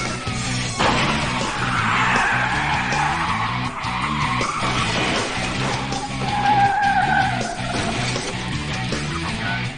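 Tires squeal loudly and continuously as a car skids through a police pit maneuver during a pursuit, with a wavering screech riding over engine roar and road noise, close and intense.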